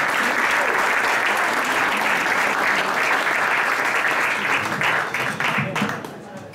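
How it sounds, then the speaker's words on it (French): An audience applauds after a sung performance of a song, steady dense clapping filling the room at full volume before thinning out toward the end. "Jacques, on applaudit Jacques."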